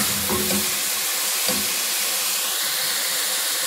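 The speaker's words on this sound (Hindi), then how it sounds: "पालक को अच्छे से भून लूंगी।" Spinach stir-fried in a pan at home, a steady broadband sizzle with a few stirring scrapes and clicks early on, continuous and close with no talking.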